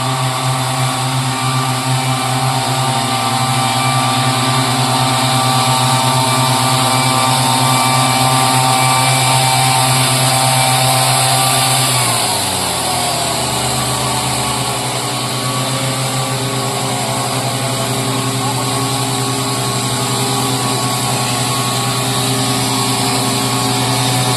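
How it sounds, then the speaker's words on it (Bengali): Two tea-leaf cutting machines run together in a steady, loud mechanical drone with a constant whine, the engine pitch shifting and settling lower partway through. "দেখো দু দুটো মেশিন একসঙ্গে আসছে"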